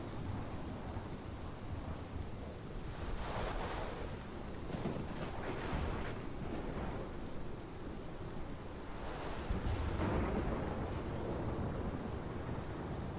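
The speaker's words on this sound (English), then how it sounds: "This is my storm." A steady roar of heavy rain and wind from a thunderstorm in the video game Life is Strange, with low rumbles of thunder swelling and fading throughout, no voices.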